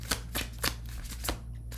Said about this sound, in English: I thought I shuffled all the decks.